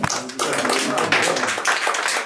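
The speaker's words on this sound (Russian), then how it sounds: "Аплодисменты." Audience applause at a presentation of the newspaper «Литературные известия», a steady broadband clapping wash lasting about two seconds with a few louder bursts, moderately loud and fairly close.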